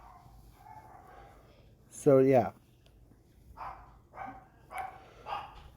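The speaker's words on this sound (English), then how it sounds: "alright, my dogs are barking." Several dogs barking at a home: one loud burst of barks, then a few shorter, softer barks spaced out afterward, with a person talking over and between them.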